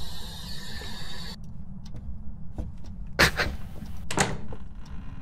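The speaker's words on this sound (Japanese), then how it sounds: "ドア開けた、開けた、開けたわ。" A door creaks open in the ghost-hunting video game Phasmophobia, heard as two short clunks over a constant low ambient rumble in a quiet scene.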